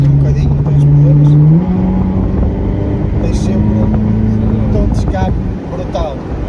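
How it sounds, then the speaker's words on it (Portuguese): A Ferrari engine and exhaust holding a steady droning note that rises in pitch, loud and close, with people talking over it throughout. "Sempre um tom de escape brutal."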